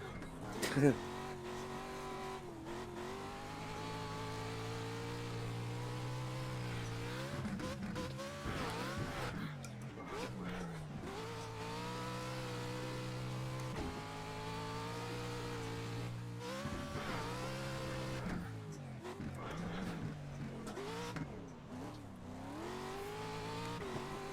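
Racing truck engines in iRacing drone and rise and fall with gear changes, with brief tire squeals and skids at points, while someone talks over the steady engine noise throughout.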